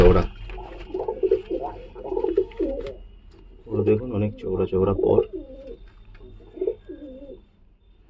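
Soft, repeated coos from Madras pigeons sound close by, mixed in with someone talking over them in bursts throughout.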